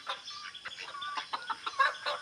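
Several chickens clucking close by in short, overlapping calls, with a sharper squawk near the end.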